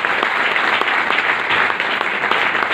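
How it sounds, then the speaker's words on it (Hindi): Loud, dense applause from an audience gathered in Mayur Hall, sustained clapping close and strong at a steady level with no speech over it. "तो एक बार उनके लिए जोरदार ताली हो जाती है।"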